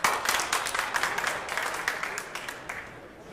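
Audience applause at a women's 10-ball pool tournament semi-final, a short burst of steady clapping from a nearby crowd that fades over a few seconds.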